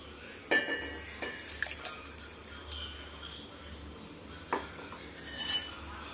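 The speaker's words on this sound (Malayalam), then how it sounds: "ഇനി മിക്സിയുടെ ജാറിലേക്ക് ഇട്ട് കൊടുക്കാം" Cooked, cooled tomatoes go into a mixer jar in a home kitchen, with scattered clinks of a spoon and utensils against the jar. The taps are light and irregular, and a soft scrape comes near the end.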